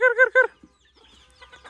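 Hens and chicks in a village yard cluck while being fed grain and rice. A loud, close clucking call comes first, then soft, scattered chick peeps.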